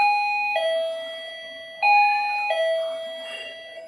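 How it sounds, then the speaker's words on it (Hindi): A wireless doorbell chimes a two-tone ding-dong twice, bright and clear, each pair ringing out with a lingering tail. "तो अभी जो बेल बजी वो टिंग टोंग बजी है"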